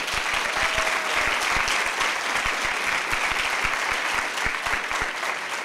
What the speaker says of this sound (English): Let us applaud her for that.